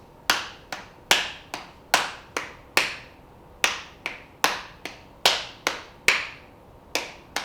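Hand claps tap out the rhythm of Twinkle Twinkle Little Star, sharp and close. Groups of quick claps are separated by short pauses that follow the melody's phrasing.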